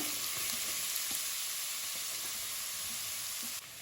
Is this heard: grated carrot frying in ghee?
yes